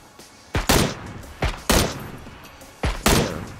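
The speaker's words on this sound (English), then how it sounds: "Yeah, we're getting shot at." Gunfire in the PUBG battle royale game arrives as about six sharp, loud reports in two quick clusters over a few seconds, with no talk while it plays.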